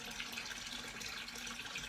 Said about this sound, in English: now I'm going to put the cold tap on for extra power